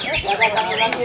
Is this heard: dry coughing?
no